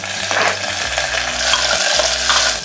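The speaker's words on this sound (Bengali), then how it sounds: "আর সাথে ক্যাপসিকামও অ্যাড করে দিচ্ছি" Capsicum being stirred and sautéed in a hot pan, a loud, close, steady sizzle with intermittent scraping of the spatula and no speech.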